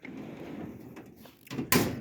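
A drawer on a Harbor Freight 56-inch rolling tool box slides shut with a soft rumble and ends in a sharp metallic clunk. It is heard close up after a quiet stretch.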